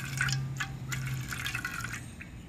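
Alcohol stove fuel is poured into a tuna can in a quiet setting. A thin, steady liquid trickle runs for about two seconds, with small splashy drips near the end and a low hum underneath.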